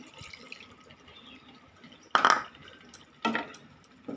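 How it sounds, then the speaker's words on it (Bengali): A bowl of water poured into a pan of fish during home cooking, heard as two short splashing bursts with drips and faint kitchen clatter in between, moderately close. "মাছগুলো দিয়ে দেবো এবারে। আর এই এক বাটি জল দেব"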